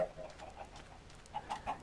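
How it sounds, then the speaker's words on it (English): Chickens clucking in Minecraft VR on PlayStation VR, a string of soft, short clucks and coos repeating at an uneven pace over a low game background. "Look at the chickens. They're actual size chickens."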